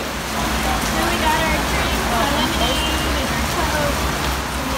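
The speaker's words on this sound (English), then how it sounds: "Yeah, what happens when it rains like this?" Heavy thunderstorm rain pours down in Fort Lauderdale, a loud, dense and unbroken roar of water on surfaces that fills the whole stretch.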